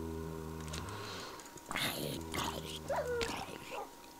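A Minecraft dog whimpers and yips in short high-pitched bursts over a steady game hum, close and fairly loud, with a brief slide-like cry near the end.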